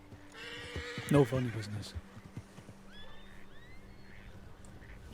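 A horse whinnies loudly in the RedM western roleplay game, a harmonic neigh that rises and falls over about a second, with a brief spoken line nearby and quieter ambient game sound afterward.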